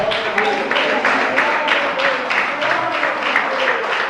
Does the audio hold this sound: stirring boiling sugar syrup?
no